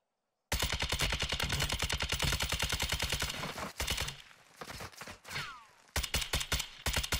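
Automatic gunfire from a Fennec in the video game Warzone 2: long, rapid bursts of shots, then scattered single shots and another sustained burst, loud and close.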